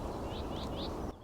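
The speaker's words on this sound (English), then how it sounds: "Can you hear that? That's a call of a whitethroat." A whitethroat calls out on open moorland, three short rising chirps repeating over about a second against a steady background hiss, moderately near and clear.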